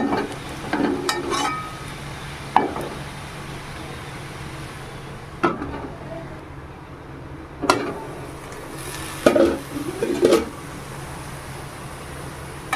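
Potatoes frying in a covered pan give a soft, steady sizzle, broken every few seconds by short clanks and knocks of the lid and utensils. No voices.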